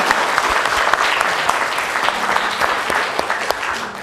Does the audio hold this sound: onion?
no